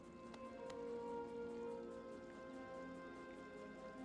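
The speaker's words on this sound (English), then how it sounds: "I can hear the rain of the city" Steady rain falls on the city in Hollow Knight, a faint, even patter of drops with soft ringing ambient tones and a few small, sharp drip ticks.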